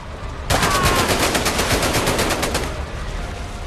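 Automatic gunfire in Medal of Honor: Above and Beyond during a fight on board a ship, one loud, sustained rapid burst lasting about two seconds, then fading into background noise.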